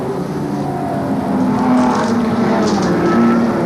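A Shell Ultra High Ford Sierra Cosworth touring car races at Lakeside in round 3 of the 1987 Australian Touring Car Championship, its engine a loud, close, sustained high-revving drone with other cars' engines blending in.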